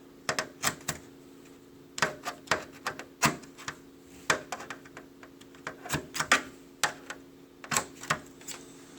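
Scissors make sharp, crisp snips, cutting relief cuts into a corner during a 2000 Chevy Tracker facelift, a close series of irregular clicks with short pauses between them and no talking.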